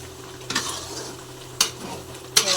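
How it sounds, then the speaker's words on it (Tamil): Chicken curry being stirred in a pan, a few sharp metal spoon scrapes and clinks against the pan over a soft background sizzle, close with no talking. "இன்னும் கொஞ்சம் லைட்டாக 2 பரட்டு."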